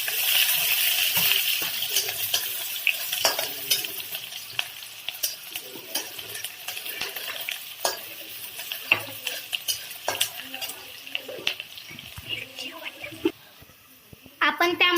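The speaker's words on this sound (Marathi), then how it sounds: "आता आपण बारीक कापलेला कांदा त्यामध्ये टाकणार आहोत।" Finely chopped onion and green chilli cooking in a pan, a soft sizzle broken by repeated clinks and scrapes of a metal spoon against the pan, close, with a voice talking at times.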